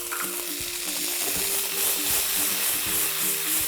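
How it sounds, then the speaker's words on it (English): Chopped onion and boiled green peas frying in a pan for a potato samosa filling, a steady broad sizzle with soft stirring scrapes and faint tonal hum underneath, no talk. "Just cook the onions for a few seconds."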